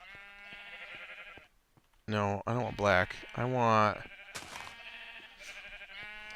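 Sheep in the Minecraft video game bleat several times in quick succession with a wavering, nasal tone, loud and close, while someone talks over the game's background noise.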